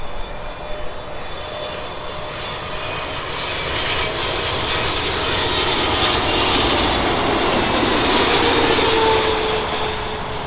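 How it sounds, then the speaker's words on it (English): An Egypt Air Boeing 777-300 jet airliner from Cairo passing close overhead, with a loud, broad engine roar that builds and holds steady across the whole stretch, with no talking. "is Egypt Air's big Boeing 777-300 from Cairo."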